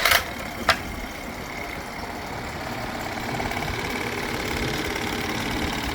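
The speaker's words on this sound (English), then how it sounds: "Running the engine," A 2018 Mercury 8hp long-shaft four-stroke outboard idles in neutral with a rattly, steady running note close by, a couple of sharp clicks near the start.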